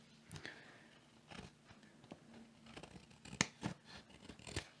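Scissors trim excess paper from a craft journal page, giving a few quiet, scattered snips and crisp paper rustles over several seconds, close up and with no talking.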